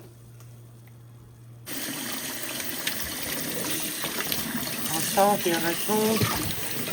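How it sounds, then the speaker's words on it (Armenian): Fish being washed under running tap water, a brief quiet start followed by steady splashing flow with handling noises and a short voice in the background. "այսպես լավ լվանում ենք, տեսեք ջուրերը էլի ոնց է կխտորվել"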